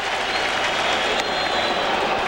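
Mets fans in a stadium crowd during a Yankees–Mets game, a dense, steady wash of cheering and applause that holds at an even, loud level across the whole stretch with no pauses.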